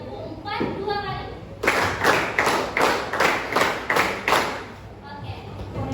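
Students in a high school classroom clap in unison in short counted sets, bright repeated group claps in a steady beat, with talking before and after.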